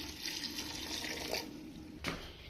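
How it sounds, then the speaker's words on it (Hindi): A glass of water pours into a pot of beef karahi, a steady close gushing splash that holds for about two seconds and ends with a brief sharper splash; nobody speaks. "पानी शामिल करेंगे 1 गिलास।"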